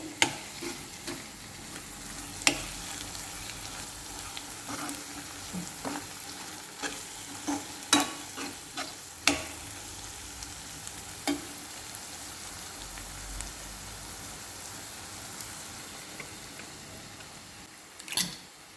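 Vadiyalu fry in a shallow layer of oil in a pan for a tamarind pulusu, a steady low sizzle running throughout, punctuated by sharp clicks and scrapes of a spoon stirring against the metal.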